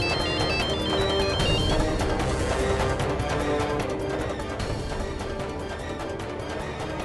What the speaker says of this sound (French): Monsieur Arnab ne répond pas au téléphone